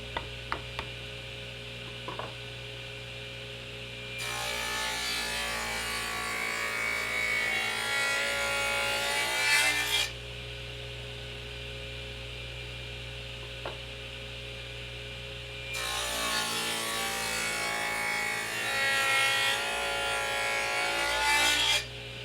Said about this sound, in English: The boards are a little thicker than I want, so I resaw them on my table saw.